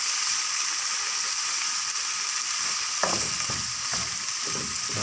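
Pancit Cabagan noodles fry in a pan with a steady bright sizzle throughout, and a splash of soy sauce brings a sudden louder hiss and crackle partway through, with no voices.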